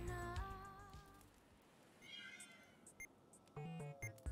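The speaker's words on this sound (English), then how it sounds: "Actually got some of the kitties back here too." Cats meowing in the River City Girls 2 video game: a drawn-out meow at the start, then shorter mews and chirps later, with faint game tones and music in between.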